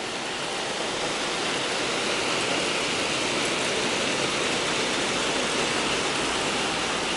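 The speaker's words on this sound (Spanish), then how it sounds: "está lloviendo. Vaya tormenta." Steady, dense roar of a heavy rainstorm in Alicante, loud and continuous throughout with no breaks or voices.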